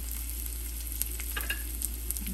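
Finely chopped curry leaves crackling in hot oil, a short close sizzle with small pops and spits over a steady low hum.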